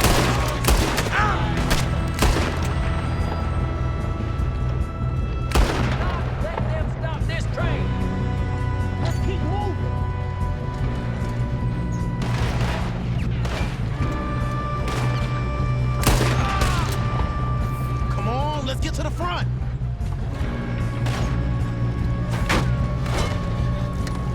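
Sustained gunfire in Red Dead Redemption 2 during a shootout, with rapid overlapping shots, cracks and crashes over nearly half a minute and in-game voices and music beneath.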